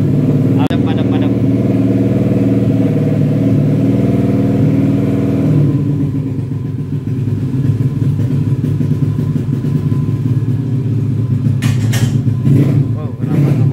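A motorbike engine runs loudly and close in a workshop where riders are getting ready for a race. It holds a steady idle, then the note changes partway through to rougher revving, and people talk nearby.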